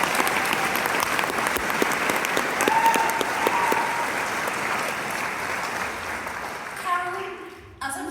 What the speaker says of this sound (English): she deserves a huge round of applause too